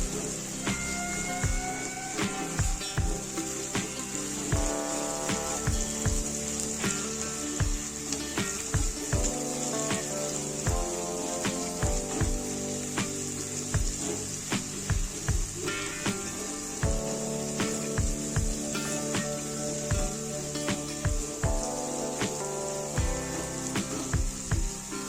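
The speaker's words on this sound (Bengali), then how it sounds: "পেঁয়াজটা আমি একটু লাল লাল করে ভেজে নেব।" Onions frying in a pan for a Bengali vegetable dish with yardlong beans and ridge gourd give a steady, close sizzle that runs throughout, with music playing underneath.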